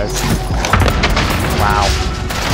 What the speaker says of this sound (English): He threw a thermite.